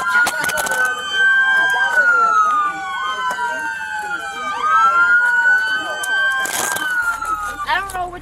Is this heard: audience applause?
no